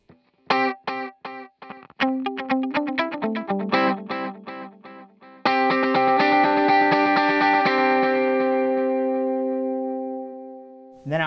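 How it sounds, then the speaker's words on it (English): Electric guitar through a bright digital delay pedal set to dotted-eighth repeats: picked notes echo in quick succession, then a sustained chord rings out with trailing repeats, loud and alone. "So I have a dotted eighth, pretty bright digital delay sound."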